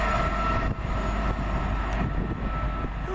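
A Class 350 electric train, bound for Northampton, rushes through Cheddington station as a loud, steady roar of wheels and traction noise that fills the whole span without letup, close by and unbroken, with no voices.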